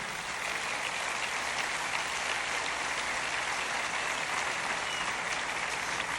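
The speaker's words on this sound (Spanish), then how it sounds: "Dele el aplauso al Señor si lo siente así." Steady, dense applause from a church conference congregation, even and continuous without pauses, heard at a moderate distance in a large room.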